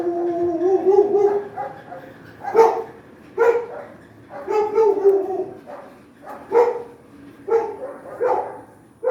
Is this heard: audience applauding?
no